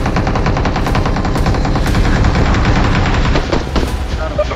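Rapid automatic gunfire in PUBG Mobile during its Dragon Ball Super update, a loud, dense, continuous rattle of shots with a few louder cracks standing out, close and unbroken for several seconds.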